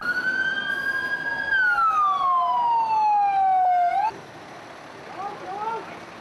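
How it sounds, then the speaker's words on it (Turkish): A fire engine siren wails close and loud at a hospital fire drill, sweeping downward in pitch before cutting off abruptly, leaving faint background noise. "İki itfaiye aracı yangına müdahale ederken"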